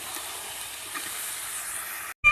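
Meat being stir-fried in a pan over a wood-fired clay stove, a steady close hiss and sizzle running for about two seconds before cutting off abruptly.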